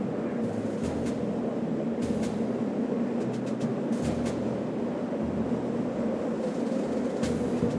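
A tram ride in the video game Return to Castle Wolfenstein, a steady low rumbling rail drone with faint periodic clicks and rattles, continuous and even throughout.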